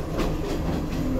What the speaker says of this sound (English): On a train from Colombo